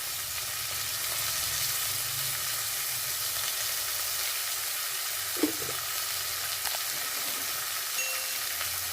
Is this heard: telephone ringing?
no